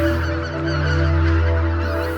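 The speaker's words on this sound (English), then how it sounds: "there are just a few lakes where geese from around the region gather" A flock of geese honking together at a lake in Japan where they gather to roost in winter, a dense, steady chorus of overlapping calls close by and loud throughout.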